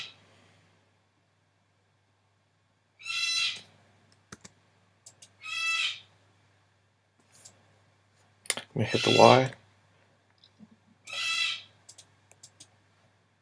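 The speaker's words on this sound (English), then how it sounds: "Sorry about my birds." Pet birds sound off in a quiet room: several short, bright calls come in separate bursts, one longer and louder than the rest. Light keyboard clicks sit between them, and someone says a few words.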